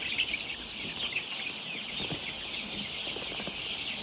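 A crowd of young poultry chickens gathered around a drinker, clucking and chattering constantly nearby, a dense steady flock noise with no talking.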